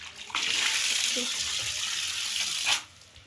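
Tap water runs in a household washing area used for dishes and laundry, a steady close gush that starts abruptly, flows for a couple of seconds, then cuts off.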